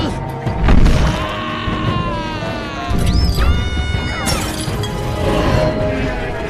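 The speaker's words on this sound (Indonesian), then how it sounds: "membuat pesawatnya tidak seimbang, lalu menimpa Vector dan menabrak kaca anak-anak" A spaceship in the animated film Despicable Me crashes into glass: a heavy impact and shattering, with swooping whistles and rumbling debris, loud and continuous over several seconds.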